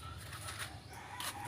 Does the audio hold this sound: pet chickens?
yes